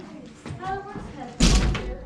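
The back door of a mine camp cabin bumps shut with a single solid thud near the end, following a stretch of people talking.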